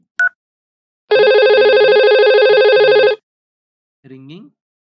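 An IP phone in a network simulation rings with one loud, sustained electronic tone of about two seconds, framed by brief short beeps before and after.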